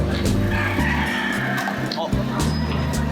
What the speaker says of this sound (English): Some roosters crowing, I guess.